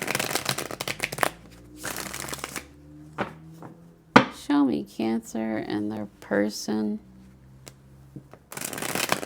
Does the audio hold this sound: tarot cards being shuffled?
yes